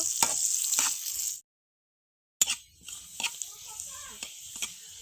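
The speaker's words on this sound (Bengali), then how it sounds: "পেঁয়াজ কুচি রসুন কুচি ভালো করে ভাগাটা করে নিব পেঁয়াজ ভালো করে ভেজে নিব" Chopped onion and garlic with dried chilies sizzle and fry in a pan for dal, a steady hiss broken by a silent gap, then resuming with light stirring clicks.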